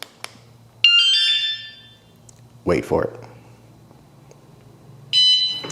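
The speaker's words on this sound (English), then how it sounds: "that's another security alarm" A piercing electronic security alarm shrieks in two bursts separated by a brief pause, with a person briefly speaking between them.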